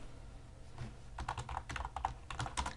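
Keys clatter on a computer keyboard in a quick, uneven burst of close, crisp clicks with brief pauses, quiet overall and with no talk.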